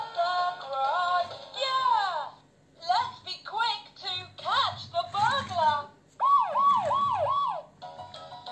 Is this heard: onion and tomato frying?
no